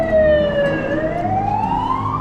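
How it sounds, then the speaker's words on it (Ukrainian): A fire engine's wailing siren sweeps down and then rises again as it passes close by outdoors near the fifteenth-century Dubno castle, loud and clear over steady traffic rumble. "Поїхала пожежна машина"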